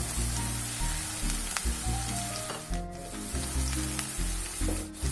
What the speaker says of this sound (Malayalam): ഇനി നമുക്ക് ഉള്ളി ഇടാം.